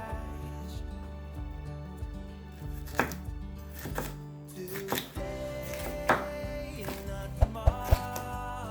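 Knife chopping bell pepper on a cutting board while cooking a chicken dish, a run of crisp, irregular cuts up close, with a few sharper louder strikes near the end over steady kitchen background.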